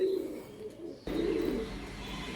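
Pigeons of a prized show breed coo low and soft in the background, a murmuring call heard twice amid light room noise.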